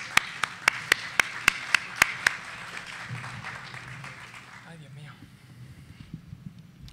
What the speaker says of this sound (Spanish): un aplauso aquí para la mesa